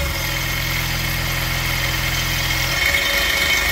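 Externally regulated Delco Remy alternator spinning on a bench test rig, a steady close mechanical whine and hum whose low drone drops in pitch and load near the end.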